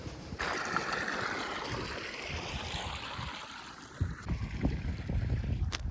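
Irrigation water pours and gushes steadily across a cumin field, a continuous rushing flow close to the microphone with some wind buffeting and a few louder splashes near the end.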